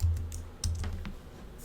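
A few soft clicks of typing on a computer keyboard as a name is entered, with low hum underneath and no talking.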